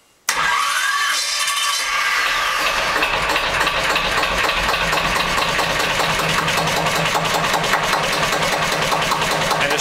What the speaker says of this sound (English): You hit a glow plug go, and the generator will start.